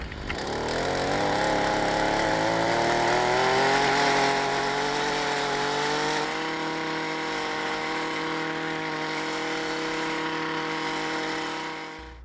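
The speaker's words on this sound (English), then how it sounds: "what I have here is a handy dandy little portable tiller, two-cycle engine, and I'll get it started" A small portable garden tiller with a two-cycle engine runs steadily and loudly nearby, its buzzing drone rising slightly in pitch early on, then holding a constant tone before cutting off at the end.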